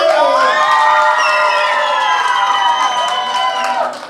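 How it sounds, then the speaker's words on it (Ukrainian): Audience at a dance contest cheering and shouting, with children's voices whooping loudly for several seconds before fading at the end. "Марійка і Юра, другі парі оплески."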